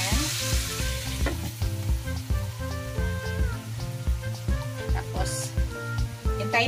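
Salmon pieces fry under a lid in a covered pan, giving a steady close sizzle with faint clinks and soft bumps, background tones running beneath.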